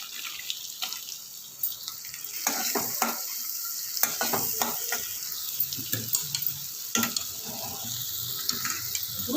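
Ginger and carrot pieces fry in hot butter for a sweet corn soup, giving a soft continuous sizzle with intermittent scraping and stirring clatters from a spoon in the pan, fairly quiet and close with no talking.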